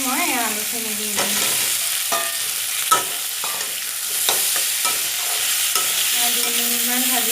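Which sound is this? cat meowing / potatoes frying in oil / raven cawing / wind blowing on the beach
potatoes frying in oil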